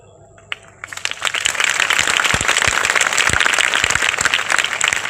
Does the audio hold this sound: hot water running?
no